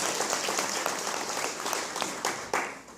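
A church congregation applauding during a sermon, a dense spread of hand claps with a few sharper accents, steady and fairly close throughout.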